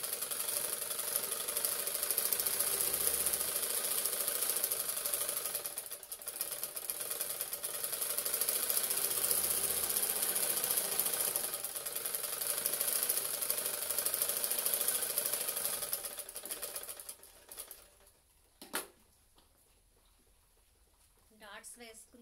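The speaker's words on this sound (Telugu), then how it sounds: "బెల్ట్ వేసాక మళ్ళీ పై కుట్టు కూడా వేసుకోవాలి ఈ బెల్ట్కి." A sewing machine runs steadily for a long stretch while top-stitching a belt, a continuous mechanical whir with brief pauses, stopping near the end and leaving quieter room sound.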